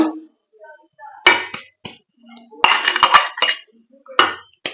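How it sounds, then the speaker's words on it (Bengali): Powdered sugar is mixed into flour in a bowl for an eggless date cake, heard as scattered clinks and scrapes of a utensil against the bowl, some sharp and close, with soft gaps between. "সেই চিনিটা দিয়ে দিচ্ছি ময়দার সঙ্গে পুরো মিক্স করে নেবো"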